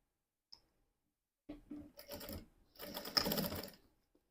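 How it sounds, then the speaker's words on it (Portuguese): Sewing machine stitching a seam on fabric for a handmade pencil case, a faint tap, then short bursts of quick close mechanical whirring and clatter, stopping and starting. "vamos dobrar aqui assim, vamos passar uma costura."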